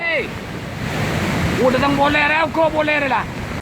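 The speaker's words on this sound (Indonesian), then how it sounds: "Banjir bandang di Desa Karangbayat, Kecamatan Sumber Baru, Jember ini sempat diabadikan melalui video amatir oleh warga sekitar." Floodwater from an overflowing river rushes in a steady broadband roar during a flash flood in a village in Jember, Indonesia, after heavy rain, with voices talking over it.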